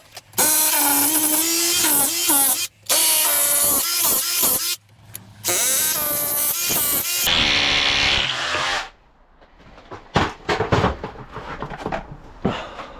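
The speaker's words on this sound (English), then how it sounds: "we'll drill all these holes ready, get a pilot in" A power drill bores pilot holes during the finishing of a house extension, sounding in several loud bursts of whining rotation separated by short pauses, then giving way to quieter clattering knocks near the end.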